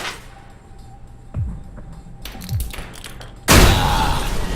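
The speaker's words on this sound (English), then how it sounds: "Try and chuck one beneath the truck and take out the gas tank." A grenade detonates beneath a truck's gas tank in the game Alpha Protocol, a sudden loud blast with a sustained roar at the end, after two earlier dull thumps over quiet ambience.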